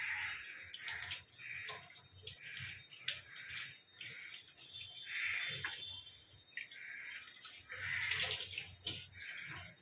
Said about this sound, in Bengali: এই যে পাশে গরম জলটা, এটা আমি ঢেলে দেবো